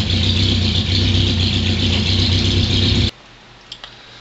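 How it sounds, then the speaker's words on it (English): A neighbor's motorbike engine runs loud and steady close by, a continuous droning rumble with a slight rattle that cuts off abruptly near the end, leaving quiet background. "My neighbor started up his motorbike, so I had to cut the video off,"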